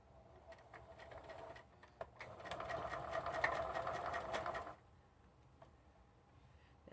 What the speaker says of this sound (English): Anytime you're starting a stitch on a machine, you always back stitch and then go forward again